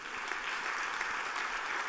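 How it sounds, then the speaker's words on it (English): Brief burst of dense audience applause at a business event for vets and animal health, steady and even from start to finish. "Give yourselves a round of applause."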